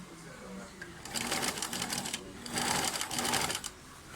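A sewing machine stitches around the contour of a jean-style jacket sleeve in bursts of rapid needle clatter, with quiet pauses between runs and faint background sounds.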